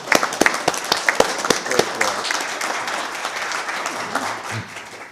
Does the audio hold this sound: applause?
yes